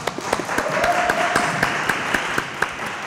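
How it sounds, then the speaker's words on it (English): Audience applause at a town select board meeting, steady clapping from a modest crowd of people in a meeting room, with a few individual claps standing out above the wash and a faint voice underneath. "She loves it when you clap for her."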